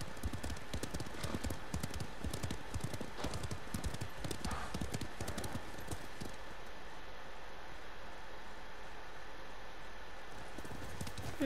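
Horse hooves clip-clop in a steady galloping rhythm while riding in the video game Ghost of Tsushima, close and clear, with brief game ambience and a soft tone later on.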